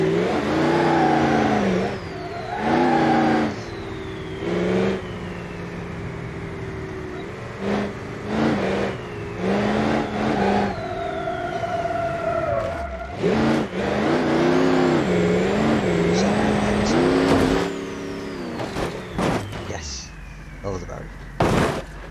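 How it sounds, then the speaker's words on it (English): A Civetta Scintilla engine in BeamNG.drive revs hard and over-revs repeatedly, rising and falling in pitch between gear changes, while someone talks over much of it. "sometimes best to just over rev."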